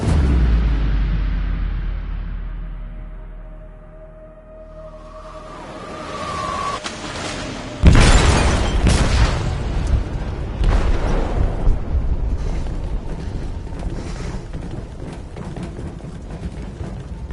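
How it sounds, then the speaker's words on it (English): A deep boom rolls out from an explosive detonated in a ship's hold in Detroit: Become Human, followed by a sudden loud blast and a long, rumbling, crackling aftermath. "They detonated an explosive in the hold."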